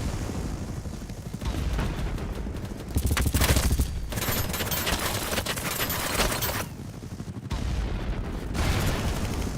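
Dense, continuous gunfire and booming in the online shooter Battlebits, with sniper shots mixed into a sprawling firefight that rises and falls in loudness over several seconds.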